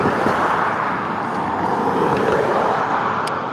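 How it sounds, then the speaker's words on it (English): A pickup truck rolls past with a steady, loud wash of road and engine noise, close by and continuous with no voices. "Maybe not, it's a pickup truck."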